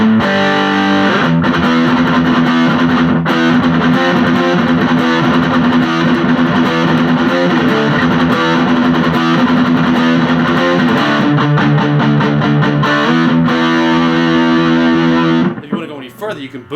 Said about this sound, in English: So there's plenty of distortion on tap on that pedal.